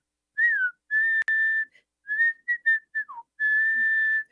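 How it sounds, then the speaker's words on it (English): A man whistles a slow, clear melody close up, with short breaks between phrases and a quick warbling trill in the middle. "It's like an old man whistle"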